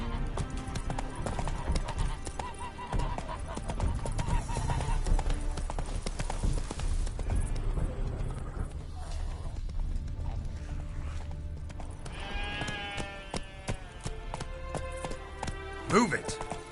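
Roach, a horse in The Witcher 3, galloping with a fast, rhythmic clip-clop of hooves under game music and voices, ending with a sharp sound near the close.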